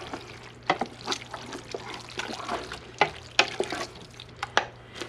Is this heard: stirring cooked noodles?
yes